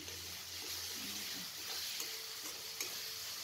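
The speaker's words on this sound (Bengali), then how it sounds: "আমি পেঁয়াজের সাথে একটু রসুনটা একটু লাল লাল করে এটাকেও একটু ফ্রাই করে নিই" Garlic paste frying with onions in a pan for a chicken dish, a continuous broad sizzle with soft stirring and occasional faint clicks, steady and close.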